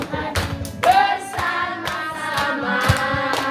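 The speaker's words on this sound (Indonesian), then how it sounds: "Tepuk tangan untuk Tuhan." Children clap their hands together during a lively worship song, a steady run of sharp claps in rhythm over singing and music, fairly close and moderately loud.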